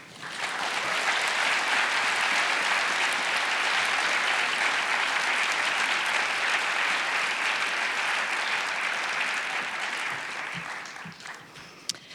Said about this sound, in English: One more huge round of applause for our 2025 National Book Award finalists.